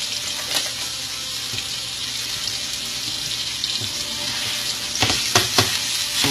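Ground taco meat browns in a hot pan with a continuous loud sizzle and hiss, close up, with a few faint scraping taps near the end.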